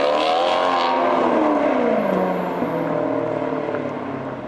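A 2023 Ford Kuga with a 1.5 EcoBoost 150 hp engine pulls away close by, its engine note rising smoothly in pitch and then settling and fading slightly as it drives off.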